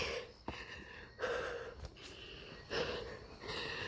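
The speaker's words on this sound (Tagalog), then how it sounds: "Hingal na kami ang taas ng ano" Heavy, gasping breaths from hikers out of breath climbing steep stairs on the Hok Tau Country Trail in Hong Kong, several loud, close panting bursts in an uneven rhythm.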